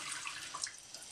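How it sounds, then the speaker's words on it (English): Water dribbles and trickles onto a knife sharpening stone, a soft steady splash with faint droplet ticks, close and quiet, with no voices. "I'm going to dribble some water on here again"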